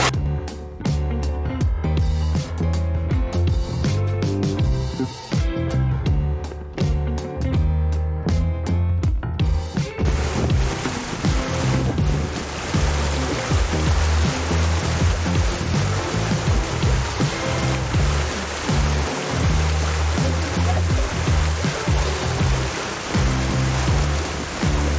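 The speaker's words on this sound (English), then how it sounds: "with the waterfall views that you're seeing right now" Rushing water at the Pinawa Dam waterfalls roars steadily as a broad, continuous hiss, with some rhythmic music-like sounds in the opening seconds before the water noise dominates.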